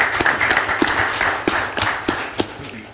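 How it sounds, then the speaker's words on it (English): A room of people at a board of directors meeting claps for honored staff, giving a fairly loud, dense wash of applause with a few sharper individual claps standing out over three seconds. "Let's give those guys a round of applause."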